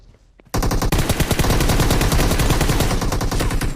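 Automatic gunfire in the mobile battle royale game PUBG Mobile, a loud rapid burst of shots starting abruptly after a brief quiet moment and continuing almost nonstop, close and dominant.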